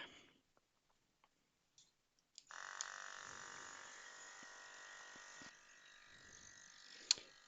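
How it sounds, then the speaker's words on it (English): A small DIY vacuum pump for a surface-mount pickup tool switches on after a few quiet clicks and runs with a steady, thin electric buzz that eases slightly toward the end, with a sharp click near the finish. "And I can power up that pump."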